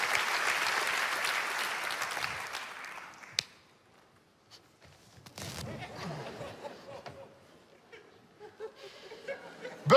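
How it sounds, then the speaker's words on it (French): A comedy festival audience in Liège claps steadily, then the applause fades out, followed by scattered murmurs, a few claps and light room noise. "Attendez un applaudissement pour notre président de ce soir, François, s'il vous plaît."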